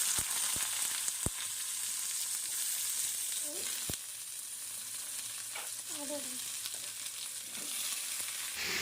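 Nigella seeds (kalo jeere) sizzle in hot oil in a wok, a steady broadband frying hiss with a few sharp clicks and faint stirring scrapes, close and continuous with no talk.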